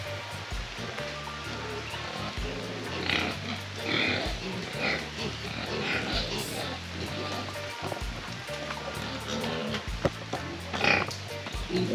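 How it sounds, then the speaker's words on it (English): Piglets grunting and snuffling on a ranch in the hills of Hanover, with a continuous watery rushing behind them and repeated short grunts throughout. "Check on the piglets."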